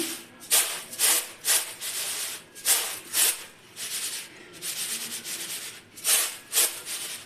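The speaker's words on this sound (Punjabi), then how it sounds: "ਦਾਲ ਨੂੰ ਮੈਂ ਇੱਕ ਥਾਲੀ ਦੇ ਵਿੱਚ ਕੱਢ ਲਿਆ ਏ ਇਹਨੂੰ ਮੈਂ ਇਸ ਤਰੀਕੇ ਦੇ ਨਾਲ ਥੋੜਾ ਜਿਹਾ ਪਛੱਟਾ ਮਾਰ ਦਵਾਂਗੀ" Cleaned dal lentils tossed and winnowed in a metal thali, giving repeated rhythmic rushing, rubbing swishes of grains sliding across the plate, close and fairly loud, with brief pauses between shakes and no talking.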